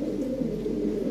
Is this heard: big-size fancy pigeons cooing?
yes